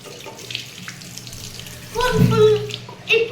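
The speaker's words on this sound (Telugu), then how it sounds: "Okay first pour it with half water." Water pours into a glass test tube as a short, brief splashing trickle, fairly close and fading quickly, with quiet room sound before and after.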